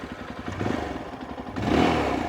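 A 2025 Yezdi Adventure motorcycle engine starts with a short mechanical clatter, then catches and rises into a louder, steady idle rumble nearby.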